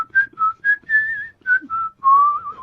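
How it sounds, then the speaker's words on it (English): Someone whistles a slow tune alone, clear and close, in a string of short notes followed by one longer wavering note. "I'm concentrating on whistling."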